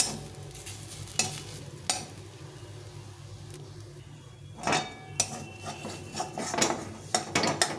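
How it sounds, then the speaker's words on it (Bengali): A spoon stirs mashed khar (bharta) in a pan, making close scraping and rubbing sounds with a few metallic clinks and faint sizzling, alone without talk. "একটু নেড়ে নেব।"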